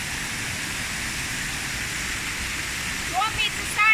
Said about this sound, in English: Now we're coming up to some of the bigger waterfalls now.